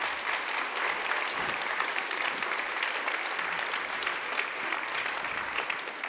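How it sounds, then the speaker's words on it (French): Sustained applause from a crowd at a children's parliament event, dense clapping that stays fairly steady and moderately loud from start to finish. "Applaudissez-vous et on les applaudit"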